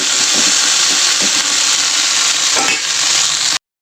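Okra stirred and fried in hot oil in a kadai, a loud, close, continuous sizzle with scraping stir strokes, cutting off abruptly near the end.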